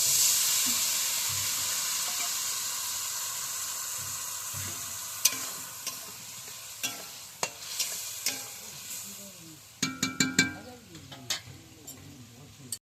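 Onions and potatoes fry in a pan with ground cumin, ginger and garlic paste and green chillies, a steady sizzle under repeated sharp scraping and stirring clinks close by, with no talking.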